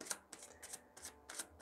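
Tarot cards being shuffled by hand in quick, faint riffling bursts, about five short ruffles spaced roughly a third of a second apart in an otherwise quiet room.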